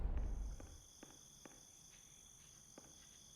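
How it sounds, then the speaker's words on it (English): Crickets chirp outdoors in the game Superliminal, a steady high-pitched trill held low in the background, with a few soft taps or footsteps scattered through it. "I hear crickets. That's a good sign"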